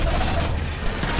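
Dense, loud gunfire from the Anthem video game fills the whole clip: sustained rapid shots and booms layered into a continuous barrage with a couple of sharper bursts.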